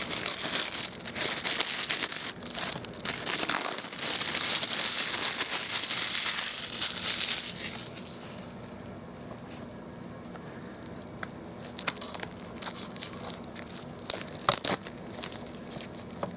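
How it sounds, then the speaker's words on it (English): Plastic wrap crinkles and tears as it is peeled off new manga books, loud dense crackling for the first half, then quieter sporadic crinkles and soft rustles, close up with no talking. "I like the sound of this plastic wrap."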